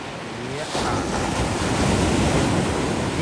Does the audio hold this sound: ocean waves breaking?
yes